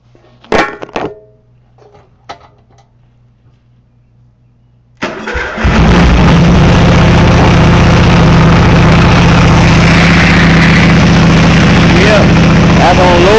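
A racing lawnmower engine cranks briefly after a few handling clicks, catches and roars into a loud, steady running drone up close, with a voice heard before the start.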